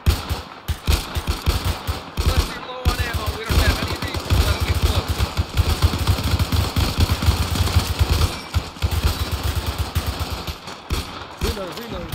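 Sustained, loud machine gun fire in a World War II war video game set in Tunisia, 1942, with rapid continuous bursts, brief gaps, and an engine-like rumble underneath, while voices talk over the shooting.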